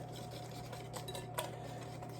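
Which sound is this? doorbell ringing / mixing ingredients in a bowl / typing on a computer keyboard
mixing ingredients in a bowl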